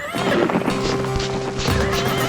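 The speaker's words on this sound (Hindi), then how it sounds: "तभी एक छोटा सा घोड़ा भागकर आता है" A small cartoon horse neighs loudly while its hooves clip-clop at a run, a lively, continuous burst of whinnying and galloping from an animated story.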